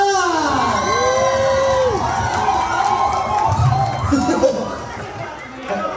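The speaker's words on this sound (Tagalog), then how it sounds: "palakpakan for Kalingap Dan!" A live audience at a dance-off show cheers, whoops and shouts in a loud, steady wash of overlapping voices, with a few high calls rising above the crowd.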